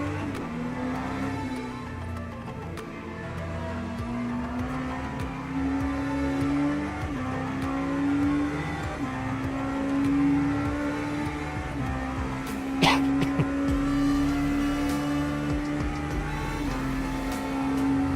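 Race car engine in the LMU racing game at Spa during an ELMS online championship round, a steady droning tone that rises repeatedly through the gears as the car accelerates, with no talk.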